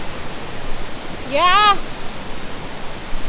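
Olumirin (Erin Ijesha) waterfall in Osun State roars as steady broadband rushing water, continuous and enveloping, while a person gives a short spoken reply partway through.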